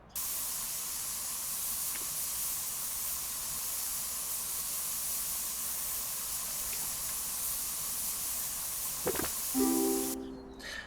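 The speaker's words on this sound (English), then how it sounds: "if you just tap it, it'll keep spraying" Spray paint spraying in the Spray Paint Simulator video game, a steady continuous hiss lasting nearly eleven seconds, cutting off abruptly near the end after a few faint interface beeps.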